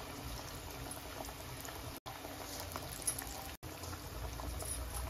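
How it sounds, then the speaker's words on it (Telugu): Masala pea vadas (batani garelu) deep frying in hot oil, a steady dense sizzle and bubbling that runs on with two brief dropouts. "గోల్డెన్ కలర్ వచ్చేంత వరకు ఫ్రై చేసుకోండి"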